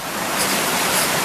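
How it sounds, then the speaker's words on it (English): Small river cascades tumbling down steps along an overland hiking route, heard as a close, steady broadband rush of water with no pauses and no voices. "Let's come across this little bit of a river. There's steps down to it. Little cascades down there."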